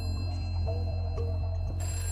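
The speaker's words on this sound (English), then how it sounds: "and the phone rings" Telephone ringing in a steady, repeating electronic ring pattern, moderately loud and close, heard alone without any talk.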